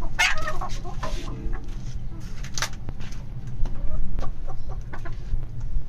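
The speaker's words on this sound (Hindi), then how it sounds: "हर मुर्गे से लड़ाई के लिए भागता है" Aseel roosters cluck and scuffle while fighting, sharp bursts and flutters over a busy outdoor background, with voices murmuring underneath.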